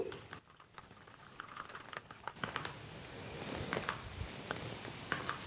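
Grey paint being stirred for fluid art: faint, wet tapping and small scraping clicks in a cup, irregular and soft, growing a little busier toward the end.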